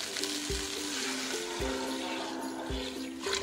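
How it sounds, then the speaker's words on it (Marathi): Water splashes into a pan of sizzling basmati rice being made into veg biryani, a steady loud frying hiss with a few low thumps and watery pouring throughout, no talking. "यामध्ये आता आपण पाणी ऍड करूया।"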